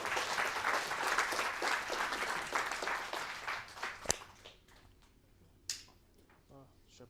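Audience applause after a question session at a data and AI agents meetup, a dense crowd of clapping for about four seconds that then thins into a few scattered claps and quiet room noise.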